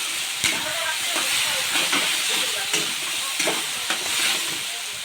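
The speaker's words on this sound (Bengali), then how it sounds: "মশলাটা একটু হয়ে আইলে এবার দিলাম মাংসটা" Meat added to vegetables, onions and spices frying in oil in a pan, giving a steady close sizzle with scraping stir strokes repeated every second or so.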